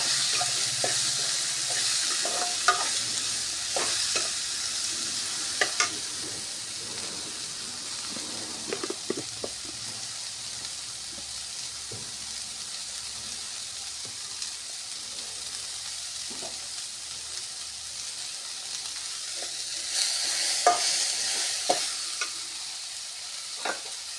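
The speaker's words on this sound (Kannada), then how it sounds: "ಈಗ ವೆಜಿಟೇಬಲ್ ಎಲ್ಲ ಬೇಯಿಸ್ಕೊತಾ ಇದ್ದೀನಿ." Vegetables for a green masala sizzle steadily in a hot pan, with the spoon scraping and stirring through them in irregular clinks, close and continuous with no talking.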